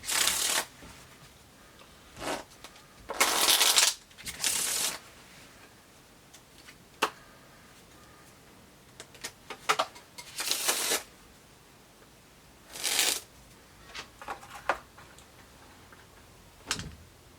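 A deck of playing cards is shuffled in bursts of crisp riffling between quiet pauses, with scattered small ticks and taps from handling the cards, close and clear, no talking.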